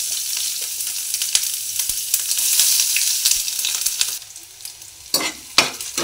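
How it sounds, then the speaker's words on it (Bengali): Onions sliding into hot oil for egg pulao, frying with a bright, continuous sizzle and sharp clicks of a spatula stirring, close and loud, without voices. "তেল গরম হয়ে গেছে, পেঁয়াজটা দিয়ে দিচ্ছি"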